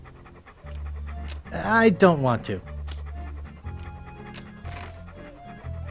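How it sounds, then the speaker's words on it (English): Cartoon dog in Monkey Island 2 Special Edition pants in quick, close, rhythmic breaths, with a voice speaking over part of it. "What a ferocious looking dog."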